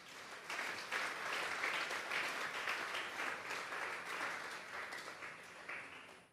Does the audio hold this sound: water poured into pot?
no